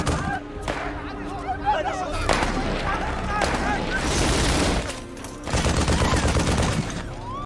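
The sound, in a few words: gunfire in a film, SWAT team shooting at sniper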